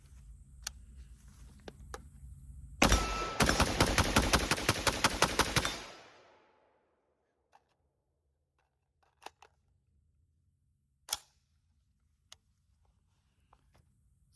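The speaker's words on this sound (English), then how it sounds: "we're gonna dump the rest of this mag out" A Ruger SFAR .308 semi-automatic rifle fires rapidly through the rest of its magazine, about a dozen loud, evenly spaced sharp shots in a three-second burst, followed by quiet with a few faint clicks and taps.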